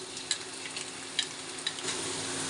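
Tomato and chili paste sizzles in a pan with ginger, onion and garlic paste for an egg bhuna. A constant close frying hiss is broken by a few sharp ticks from stirring, and no one speaks.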